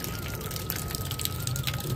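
Water poured and splashing continuously while someone washes up on a rooftop beside plants, a steady close rushing with a faint tonal hum underneath.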